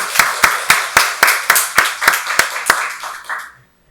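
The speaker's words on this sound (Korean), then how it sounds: "박수로 하나님께 영광 돌리겠습니다." A church congregation applauds together at a Thanksgiving Sunday worship service, giving roughly eleven sharp, loud, evenly spaced bursts of clapping that stop abruptly near the end, with no talking over them.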